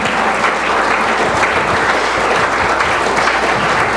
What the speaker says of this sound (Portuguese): Pode dar uma salva de palmas ao Senhor Jesus